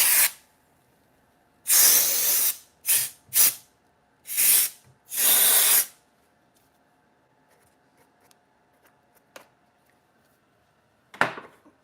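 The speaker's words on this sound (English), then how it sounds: "Could even take this little compressed air." A small can of compressed air blasts in several short, loud hissing bursts of varying length, followed by a quiet stretch with faint handling noises and one last brief puff.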